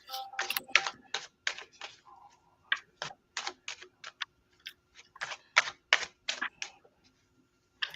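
Rapid bursts of card riffling repeat in quick succession, crisp clicking flutters close by with short pauses between each shuffle.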